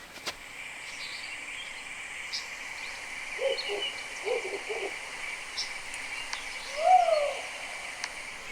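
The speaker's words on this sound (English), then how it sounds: "I think it's a wood owl, but I'm not too sure." A wood owl call plays from a cell phone outdoors: a few soft hoots, then a clearer rising-falling hoot near the end, faint against a steady insect hum and quiet background.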